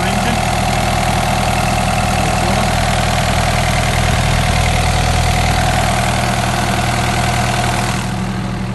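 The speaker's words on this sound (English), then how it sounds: "So it's equipped with a 60 horsepower Yanmar engine." A Doosan DX63-3 mini excavator with a 60 horsepower Yanmar engine idling, a steady close diesel drone with low throbbing hum and no talk.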